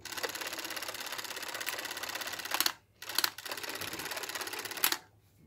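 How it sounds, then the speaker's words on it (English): Whirring, ticking mechanism of an old video camera running close up, a dense rapid clatter with two short pauses before it stops, heard alone. "Got one of these old video cameras."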